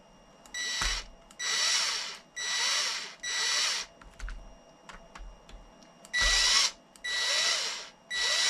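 A power drill torques down a fastener during gear repair, running in a series of short bursts about a second long with brief pauses and a few clicks between them, close and clear with no talk.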